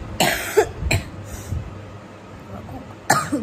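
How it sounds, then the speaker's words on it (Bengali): A person coughs several times in short, sharp bursts, with two quick coughs near the start, a fainter one in the middle and a final loud cough near the end, all close to the microphone. "খুব কাশি হয়েছে"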